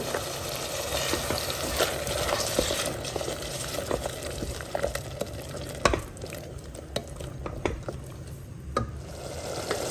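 Ground masala paste fries in oil in a pan under a continuous close crackle, punctuated by repeated scrapes and taps of a spoon stirring it, with no voices.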